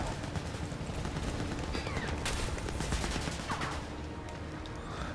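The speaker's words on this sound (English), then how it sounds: "Oh, wait a minute, that's the turret." Sustained turret fire in Crysis 3 Remastered, a continuous dense rattle of rapid shots with occasional sharper cracks, steady and fairly loud throughout the stretch without speech.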